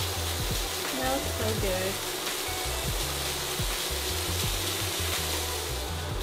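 Bacon frying crisp in a pan sizzles with a steady, loud hiss and crackle, while a voice speaks briefly over it.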